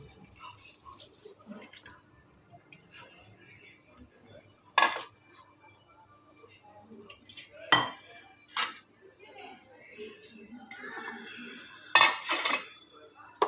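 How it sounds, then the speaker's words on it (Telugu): A spoon scrapes and clinks against a metal pot while a ragi, barley and sago mixture is stirred into water, with sharp knocks at scattered moments over a quiet background and no talk. "ఇప్పుడు కలుపుతూ ఉండాలండి ఇది ఉడికేదాకా."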